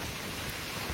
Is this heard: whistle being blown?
no